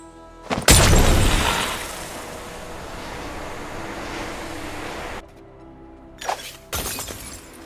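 A Snake Bomb blowing up in Fortnite, a loud shattering blast with a sudden onset that settles into a long roaring wash. It cuts off abruptly, then two sharp, shorter bursts follow near the end.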